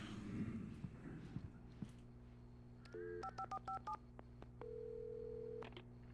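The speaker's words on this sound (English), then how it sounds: "Assuming I need to use the phone." A telephone being dialed in the video game Alan Wake: a receiver clatter, a short run of crisp touch-tone beeps, then a steady ringing tone, heard clearly against a faint low hum.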